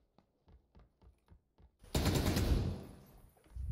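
Gunfire in the battle royale game PUBG on Xbox One X: a run of sharp single shots spaced about every quarter second, then a loud sustained burst of fire that trails off before another shot starts.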